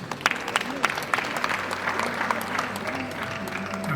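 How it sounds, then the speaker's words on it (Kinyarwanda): A wedding crowd bursts into applause, with a flurry of close, uneven claps at the start settling into sustained clapping, with voices and cheering mixed in. "tumuha amashyi menshi"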